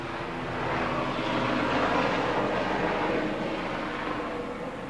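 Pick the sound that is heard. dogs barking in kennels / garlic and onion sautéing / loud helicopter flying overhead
loud helicopter flying overhead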